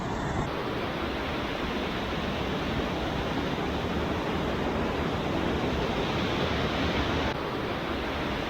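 A river runs close beside a New Hampshire mountain bike trail, its water rushing in a loud, steady, broadband wash that holds unchanged throughout with no voices.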